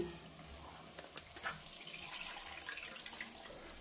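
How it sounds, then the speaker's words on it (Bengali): Water being poured into a pan of prawn masala curry (chingri macher masala), a faint, low splashing trickle that lasts a few seconds, with no talking. "এরপর জল অ্যাড হচ্ছে, ব্যাস জলটা অ্যাড হয়ে গেল।"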